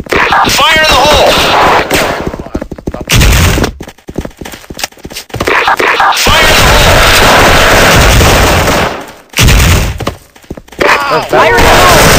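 Grenade blasts and gunfire in a multiplayer shooter, loud booms and crackling shots with brief silent gaps, over shouting from players.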